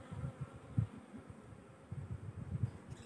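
A single bee buzzing up close with a low, wavering drone, pulsing in intensity as it collects liquid from an old, disused honeycomb.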